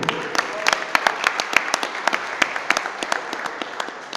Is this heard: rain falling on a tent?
no